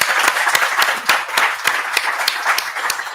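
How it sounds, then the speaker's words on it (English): An audience at a policy talk gives the speakers another round of applause, loud, close clapping with distinct sharp claps standing out over the crowd's continuous patter. "I think they deserve another round of applause."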